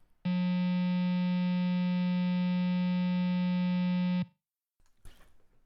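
A Kraken Octa 8-string electric guitar with its neck pickup in series rings out one sustained distorted note for about four seconds, then cuts off abruptly and a short noisy rustle follows.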